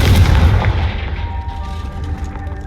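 A single deep, booming blast from the Confringo spell in Hogwarts Legacy, loud and close, with a heavy low rumble fading into a lingering tail.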